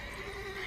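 Horse whinnying in The Witcher 3: Wild Hunt video game, a short, faint neigh with a wavering tonal call over a low background bed, heard on its own without talk.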